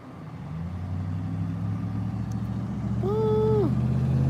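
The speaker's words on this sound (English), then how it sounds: "I hear engine sounds behind me right now." A vehicle engine in a video game drones low and steady, growing slightly louder, while a brief rising tonal whine cuts in near the end.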